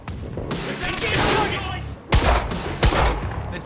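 Gunfire rattles in the Quantum Break video game, with dense bursts of automatic fire and two sharp, loud shots near the end, mixed with shouting voices.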